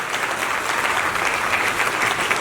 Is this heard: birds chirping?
no